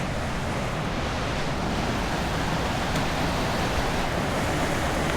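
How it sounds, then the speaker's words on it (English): Waterfall gushing in a continuous broadband roar, steady and dense throughout, heard outdoors with no talk. "the fall's gushing"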